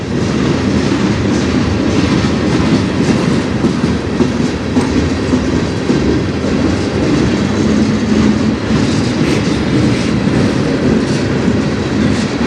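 A CN freight train rolls steadily along the rails close by, with a loud, continuous rumble and rhythmic wheel clatter and occasional faint squeals, no voices.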